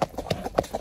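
Gaited horse on a rural farm in Brazil, ridden at a marcha, hooves clip-clopping in quick uneven beats close by, with a voice faintly present.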